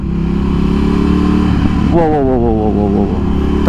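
Ducati Hypermotard 796 supermoto with an air-cooled L-twin engine running close by, a steady loud rumble that swells into a rising rev around the middle, with a rider's voice talking over the engine noise.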